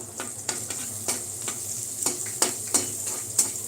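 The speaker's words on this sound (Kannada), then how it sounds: "ಕಡಲೆಬೇಳೆ ಸ್ವಲ್ಪ ಅದನ್ನು ಒಗ್ಗರಣೆಗೆ ಹಾಕಿ ಫ್ರೈ ಮಾಡಬೇಕು" Chana dal and onion fry in hot tempering oil, a steady close sizzle broken by several sharp scrapes and clacks of a spoon stirring the pan.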